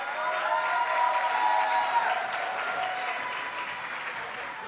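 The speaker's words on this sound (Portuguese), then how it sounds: "Com muita salva de palmas," A conference audience applauds to welcome a speaker onstage, sustained broad clapping from a sizable crowd under a faint amplified voice and hall reverberation.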